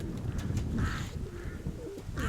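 Pigeons in a loft coo softly, a few low, rolling calls standing out over steady background noise.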